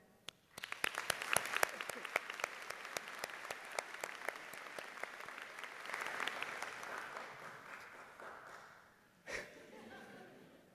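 Applause rises at a Health and Wellness graduation convocation, a crowd clapping in a sustained, fairly quiet wash that starts abruptly, holds steady, then tapers near the end with a brief louder burst.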